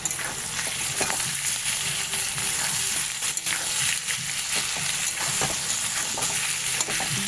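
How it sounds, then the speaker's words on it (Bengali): Garlic paste sizzles steadily in a pan with softened onions as it is fried and stirred, a continuous close frying hiss broken by light scraping stirs, with no talking. "এবার আমি এর মধ্যে রসুন বাটা দিয়ে দেব এক চামচ রসুন বাটা"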